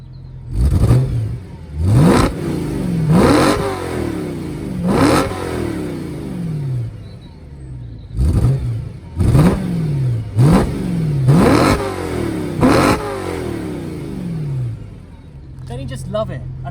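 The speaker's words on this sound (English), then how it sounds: "this being the V8, it's got real good grumble, so let's hear what it sounds like." The V8 in a BMW M3 E93 convertible is blipped repeatedly through its quad exhausts, about nine sharp revs each rising and falling back, loud and close, with brief pauses between bursts.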